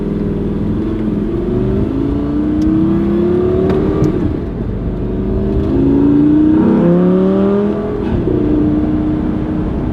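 A Lamborghini engine with a manual gearbox pulling hard, loud and close from inside the car, revs climbing through several rising sweeps with short dips between gear changes.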